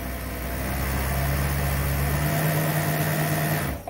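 A long-lasting sewing machine runs at a faster speed, giving a steady, continuous mechanical whir with a low motor hum that lightens partway through before stopping abruptly near the end.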